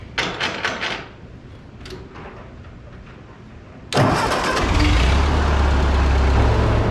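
An old tractor's engine cranks briefly, falls quiet, then fires up abruptly and settles into a loud, steady low idle close by.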